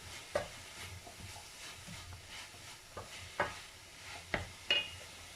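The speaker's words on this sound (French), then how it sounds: "Et je mélange maintenant mes ingrédients." Ingredients being mixed with a freshly made béchamel sauce, heard as faint, scattered scraping and soft wet knocks of a spoon against a bowl, with a few sharper clicks, no talking.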